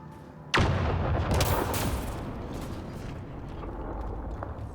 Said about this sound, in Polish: It also looks like we're going to have to blast our way through with the explosives around here.